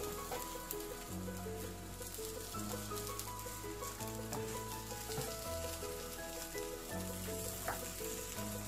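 Small pieces of dough for rfiss frying slowly in a pan over low heat, giving a soft, continuous sizzle at low volume with a faint steady background hum.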